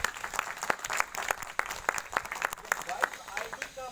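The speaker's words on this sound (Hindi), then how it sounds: "हम चाहते हैं कि इसके एक बार जोरदार ताली बजाएं" A crowd at a business promotion gathering in Gaya, Bihar applauds with sharp, distinct claps in an irregular but steady rhythm, loud and close, with no talking over them.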